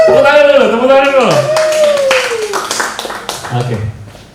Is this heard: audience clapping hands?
yes